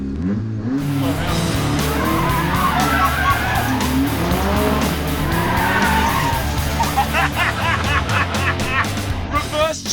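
Nissan 180SX tires squealing and skidding through reverse donuts, a loud continuous screech over a straining engine, close and sustained for the whole stretch, with people's voices mixed in.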